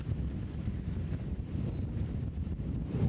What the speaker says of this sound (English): I just felt like it was a lot of wind there